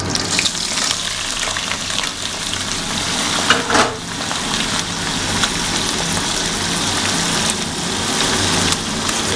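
Boiled soybeans and potatoes fry in hot mustard oil after a bay leaf tempering, giving a steady, loud, close sizzle with brief stirring scrapes throughout.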